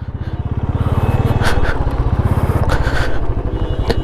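A Royal Enfield Classic 350 motorcycle stuck in snow revs hard, its single-cylinder engine thumping in a steady, loud pulse that swells and holds, with faint voices now and then underneath.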